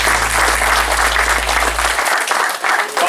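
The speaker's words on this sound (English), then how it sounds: "So let's give them a round of applause." An audience at a South Carolina breakfast club in Bishopville applauds, a thick, steady round of clapping near and loud, with a low hum underneath that cuts out partway through.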